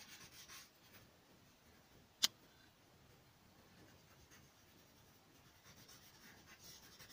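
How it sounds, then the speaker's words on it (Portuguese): A small piece of toilet paper rubs pencil lines off a drawing of an eye, making a very faint, soft scratchy swishing with a single sharp tap partway through. "Agora eu vou apagar esses traços que estão passando e eu vou usar apenas um pedacinho de papel higiênico"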